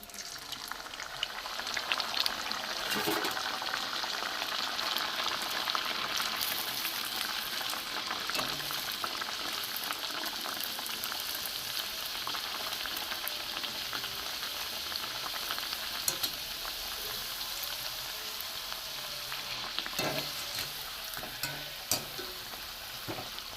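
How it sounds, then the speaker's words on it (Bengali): Fish kochuri frying in hot oil, a continuous close sizzle and bubbling with occasional sharper pops and spatters, steady throughout with no talking. "একটু লাল লাল করে ভাজতে হবে, কড়া করে ভাজতে হবে।"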